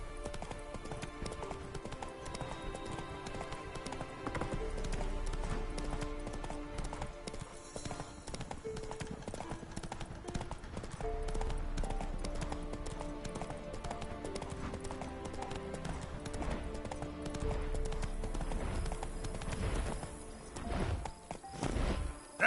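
Hoofbeats of a horse galloping in the video game Witcher 3, a continuous rapid clip-clop rhythm mixed with game music and ambience, with brief speech.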